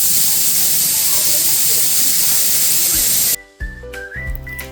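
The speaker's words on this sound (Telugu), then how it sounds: "ముందుగా మ్యారినేట్ చేసిన మటన్ని కుక్కర్లోకి వేసి 5 to 6 విజిల్స్ వచ్చేంత వరకు ఉడికించి" A pressure cooker of marinated mutton lets out a loud, steady hissing whistle of steam that stops abruptly partway through, followed by brief clattering and a short tonal sound.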